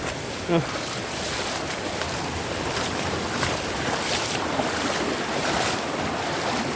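Fast-flowing mountain stream water rushes and hisses continuously nearby in rainy-season forest near Huai Chang Waterfall, Pai, Thailand, a full, steady roar with no pauses.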